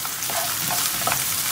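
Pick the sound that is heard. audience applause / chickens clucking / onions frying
onions frying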